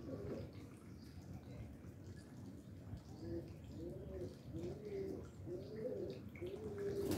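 A female Pakistani Teddy pigeon coos in a series of soft, close, rolling calls that repeat rhythmically through the second half, over a faint low background murmur.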